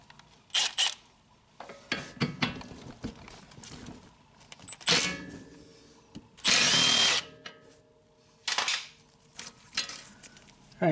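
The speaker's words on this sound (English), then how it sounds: "I'm going to pull this 12mm bolt out right here so we can loosen up this brake line" A tool works loose the 12mm bolt holding a brake line on a 2000 Honda Civic during a front strut job, giving short separate bursts of whirring and clattering, with one longer, louder burst near the middle.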